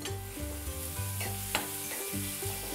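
Onion, garlic, ginger and chillies fry in oil while a spoon stirs them, giving a steady close sizzle with scraping strokes over a faint tonal background.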